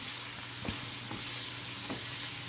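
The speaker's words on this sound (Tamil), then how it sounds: "வெங்காயம் சேர்த்துட்டு நம்ம வந்து வதக்கி விட்டுக்கலாம்." Garlic and onions sautéing in hot oil with masala, a steady close sizzle broken by a few scraping stirs of a spoon.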